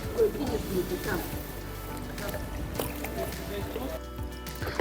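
A small rented rowboat moves on the water in Buky Canyon, Cherkasy region, with gentle splashing and sloshing from oars, while people talk nearby over a soft background wash.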